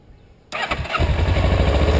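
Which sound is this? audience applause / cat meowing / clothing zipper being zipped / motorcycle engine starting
motorcycle engine starting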